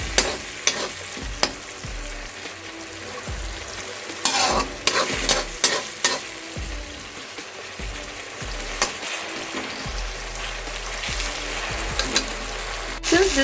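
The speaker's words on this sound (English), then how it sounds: "Now merge them together with a quick saute." Tomatoes sautéing with turmeric and red chili powder for aloo gobi, a steady close sizzle broken by repeated scraping stirs of a spatula against the pan, no voices.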